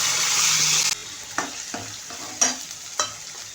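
A ground paste of ginger, garlic, green chilli, onion and tomato hits hot oil for a Marathi green pea bhaji, a loud hiss that settles into softer frying broken by several distinct stirring scrapes.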